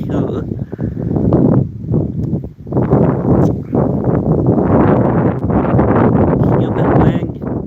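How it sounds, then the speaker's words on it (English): Strong wind buffets a microphone outdoors, loud rumbling gusts rising and falling continuously with only a brief lull. "Stupid wind."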